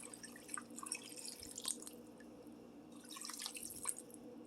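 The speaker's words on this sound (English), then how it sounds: "let the water run for a couple minutes so we can get some water into the crock pot" Tap water trickles and drips into a mug in a kitchen, a faint, soft running stream with small splashing accents.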